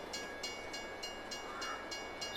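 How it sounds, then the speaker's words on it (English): A train passes by in Farming Simulator 22, a steady rumbling roll with evenly spaced clicking beats repeating about every third of a second, fairly quiet and heard alone without talk. "there goes the train right there by me"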